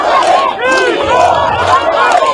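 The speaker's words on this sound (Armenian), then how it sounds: "սկսում են ոգևորված վանկարկել Նիկոլ վարչապետ ու ծափերով խլացնել ողբերգության ձայնը" A large outdoor political crowd of supporters chants rhythmically in unison, loud and close, with waves of voices rising and falling.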